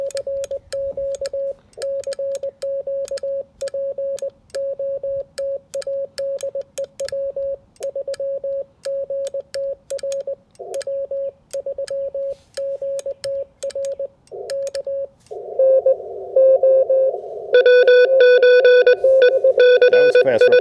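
Amateur radio transceiver sends Morse code CW sidetone as a steady stream of clean beeping dits and dahs at a single pitch, loud and close, with brief tone changes near the end.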